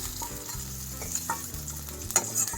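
Coconut chutney ingredients roast in a pan on the stove, giving a steady dry sizzle broken by scraping stirs close by, with no voices over it.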